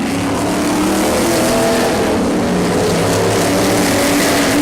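Race cars roar around a track during a race near the closing laps, a dense, loud, sustained engine howl from several cars at once with steady intensity and no voices.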